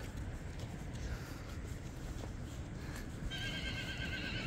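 A foal offered for sale at a horse market lets out a high, wavering whinny near the end, following a few seconds of steady, noisy outdoor background with no one speaking.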